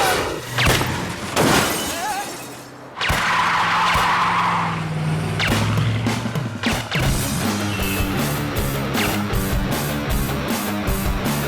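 A car skids and screeches as it swerves sharply in a Hindi-dubbed political action thriller film chase, loud and harsh over a dense dramatic music score with brief crashing impacts.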